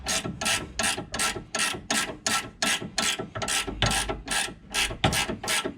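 A ratchet tightening the steering rack bolt on a Renault Megane 2, a rapid, regular series of about fourteen close metallic clicking bursts from back-and-forth strokes, with no talking.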